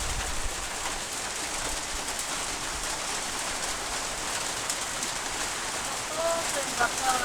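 Heavy rain falls on a flooded village home, a steady close hiss of drops that continues throughout, with voices in the background.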